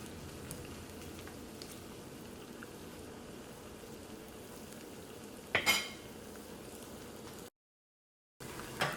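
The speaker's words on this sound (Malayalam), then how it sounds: "ഇനി ചൂടായ നെയ്യിലേക്ക് തേങ്ങക്കൊത്ത് ചേർക്കാം." Coconut pieces frying in hot ghee make a continuous quiet crackling sizzle, with a brief louder clatter of stirring, one short silent break, then the sizzle returning.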